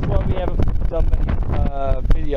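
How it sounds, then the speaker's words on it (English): Gusty wind buffets an outdoor microphone during metal detecting in the Utah Territory on a very windy day, making a low, rough rumble. Someone talks continuously over it. "it's very windy today"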